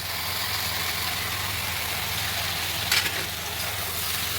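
Mixed vegetables frying in a pan with a paste of poppy seed, cashew and melon seeds, giving a steady close sizzle under a low stove hum, with a brief scraping stir near the end.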